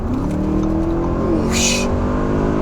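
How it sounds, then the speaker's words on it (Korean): An Audi S8 L under acceleration on a public road, heard from inside as a steady, loud engine hum whose tone rises smoothly, with a brief burst of hiss partway through. "가속 페달을 밟기 전까지는 상당히 부드러운 감각인데 한번 달려볼게요."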